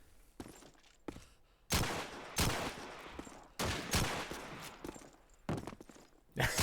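Bursts of MG42 machine gun fire in Call of Duty 2 multiplayer arrive as several loud, abrupt volleys separated by quieter gaps, close and punchy, with faint scuffling between bursts.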